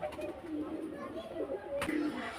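Pigeons offered for sale at Beldanga coo softly in low, intermittent murmurs over a steady background hum, with a brief louder knock near the end.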